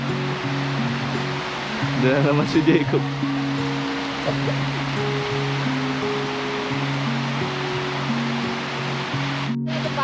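A river flows near a campsite in Banff, a steady broad rush of water that runs under someone talking in Tagalog, with some brief clatter midway.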